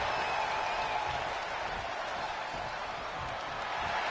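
Arena crowd in the WWE 2K25 wrestling video game, a steady, fairly faint roar of cheering and applause that holds evenly throughout.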